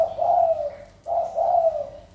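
Spotted doves (tekukur) coo in two drawn-out, mellow phrases about a second apart, close and clear against a quiet background with no talk.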